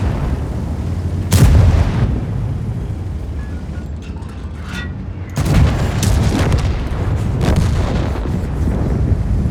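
Heavy tank cannon shots in World of Tanks fire in combat, two loud booming blasts a few seconds apart, each followed by a rumbling battlefield roar.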